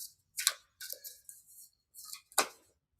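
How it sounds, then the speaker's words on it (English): A deck of playing cards being shuffled by hand, with several short papery riffles and slides in uneven bursts separated by brief pauses, close and fairly clear. "I'll move the cards around."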